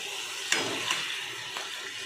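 Boiled taro greens dropped into hot spiced oil in a pan, giving a steady close sizzle with a couple of soft knocks as they land, and no talking.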